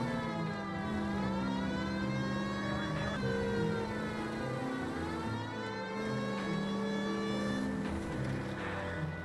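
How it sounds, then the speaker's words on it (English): A police car siren in the video game LA Noire wails, rising and falling in steady sweeps over a constant engine drone, loud and close throughout. "Siren time."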